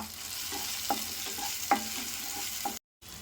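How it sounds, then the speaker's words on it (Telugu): Pasta masala frying in a pan, a steady close sizzle broken by a few sharp scrapes of a spoon stirring, with no voices. "వాసన పోయేంత వరకు వేపుకోవాలి"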